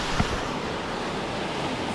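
Clear blue water at Garmisch-Partenkirchen in Germany, heard as a continuous broadband wash of waves or moving water with wind rumble on the microphone and one brief bump early on.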